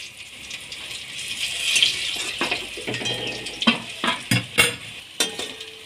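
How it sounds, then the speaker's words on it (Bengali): Cabbage and paneer pieces sizzle in a shallow pan of hot oil while a spatula turns them, with steady frying hiss broken by a few sharp scraping clinks near the end. "উল্টে পাল্টে ভালো করে ভেজে নিতে হবে"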